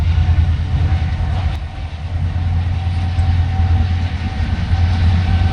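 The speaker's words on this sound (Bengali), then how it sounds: "আর একটা ট্রেন এদিক দিয়ে আসতেছে, এটা সম্ভবত ইন্টারসিটি।" An intercity express train passing close by on a Bangladeshi railway line near Joydebpur, with a loud continuous rumble and a steady rolling rattle of wagons.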